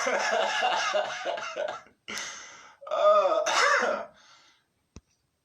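A few rough coughs and throat-clearing sounds, close and loud, broken by brief pauses, with a short sharp click near the end.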